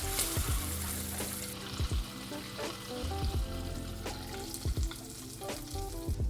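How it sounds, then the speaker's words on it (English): Butter melting and boiling in a pot over medium-high heat, a soft crackling sizzle with repeated low thumps and scraping knocks recurring every second or so, fairly quiet and close, no talk. "Simply put them in a pot and on the medium-high heat we're gonna let it melt"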